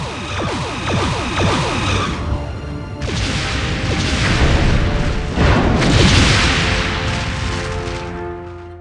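Starship weapons fire and explosions from a Star Trek fan film battle against the Jem'Hadar. Loud booming blasts roll in one after another, with whooshing, crackling bursts building into a sustained, heavy rumble.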